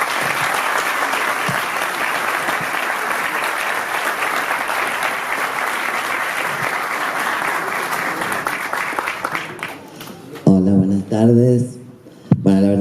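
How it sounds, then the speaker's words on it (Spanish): Sustained applause from an audience at a university economics faculty event, a dense steady clapping that fades out near the end before a voice begins speaking. "Un aplauso para ella."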